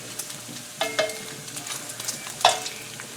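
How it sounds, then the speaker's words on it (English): Chopped bacon crisps in a pan for German potato salad, giving a soft, steady sizzle broken by a few sharp pops and stirring clicks, with no talking. "I have 6 pieces of bacon that I chopped up, and I have them in here, and I'm just crisping them up."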